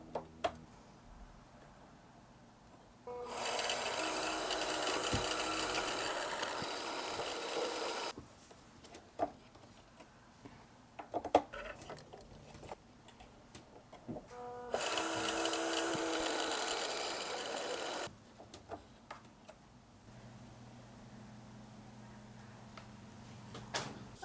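A sewing machine stitches fabric pockets in two steady, whirring runs of about five seconds each, separated by quiet pauses filled with soft handling clicks and fabric shuffling close by.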